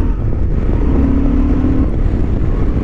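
A 2023 Honda XL750 Transalp motorcycle engine runs steadily on a racing track, a continuous loud drone with a brief steady tone partway through and no speech.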